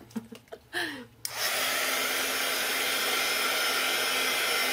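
A brief rustle and a few soft knocks, then a hair dryer drying craft glue switches on and blows with a steady, loud whoosh until the end.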